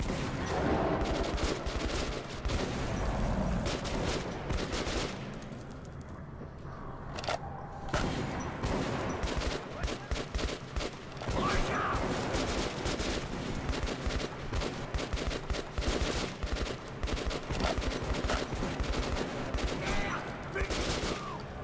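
Gunfire in Metro 2033 Redux, dense bursts of shots crackling on and off for about twenty seconds, loud and close, with a brief lull near the middle.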